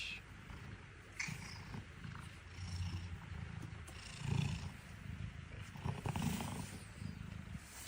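A big cat gives low, rumbling roars and purring growls in several bursts, faint and somewhat distant, with no talk over it.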